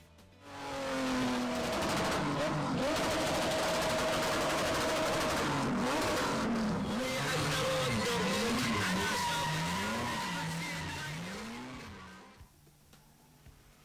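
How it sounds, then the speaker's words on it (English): Race cars at a desert racing event in the Al Dhafra region of the UAE rev hard with loud rising and falling engine whines and screeching tires, swelling into a sustained roar before cutting off near the end. "Be prepared for screeching and spinning, the smell of burning tires, clutches, and brakes, and the loud rumble of motors and explosive fuel."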